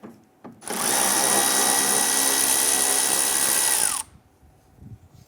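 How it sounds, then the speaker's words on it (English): A power tool loosens and backs out a 10mm screw driven up through the bumper inside the wheel well of a 2012-2017 Toyota Camry: one loud, steady whir of about three seconds that winds down at the end, with no talk. "Up inside of our wheel well, there's a 10mm screw that goes upward through our bumper and into the body. Let's go ahead, loosen and remove that."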